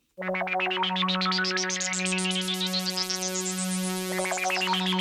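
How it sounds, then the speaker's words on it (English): A bright, sustained synth pad in a classic piano house track, with a sweeping filter that opens and closes over a steady low drone, loud and continuous throughout. "Kind of this pad with some effect sound over there."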